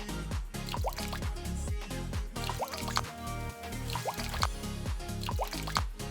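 Water pours and drips steadily into a turtle tank being filled for an albino turtle, with a rhythmic pattern of drips and splashes over a continuous running flow, close and fairly loud, with no talking.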